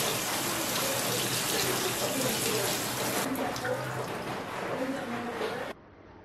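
Sprouted wheat seeds are rinsed under a running tap, a loud steady gush of water splashing into a sink that stops abruptly near the end, close by and with no voice heard.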